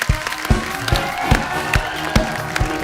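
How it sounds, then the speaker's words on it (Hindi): A studio audience claps and cheers steadily, with regular sharp claps standing out over a dense wash of applause. "जोरदार तालियां"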